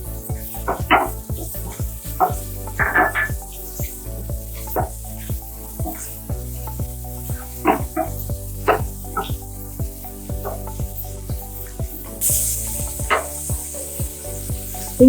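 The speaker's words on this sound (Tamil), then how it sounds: "இஞ்சி பூண்டு நல்லா வதங்கிடுச்சு." Chopped ginger and garlic sizzling in a pan, a constant frying hiss broken by repeated sharp clicks and scrapes from stirring, close by.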